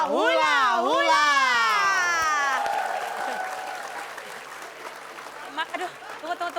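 Studio audience applause and cheering for a performer being introduced on an Indonesian comedy show, loud and sustained at first, then thinning out. A voice sings or calls in long sweeping tones over the opening clapping.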